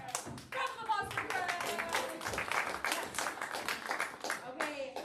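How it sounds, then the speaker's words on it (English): A live comedy podcast audience breaks into applause, a dense wash of clapping mixed with cheers and voices that carries on steadily throughout. "Round of applause for"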